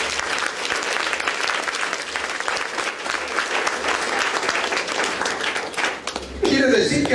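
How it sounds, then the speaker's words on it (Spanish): A church congregation bursts into sustained applause during a sermon, loud and steady throughout, with a voice breaking in briefly near the end. "Denle palmas al Señor."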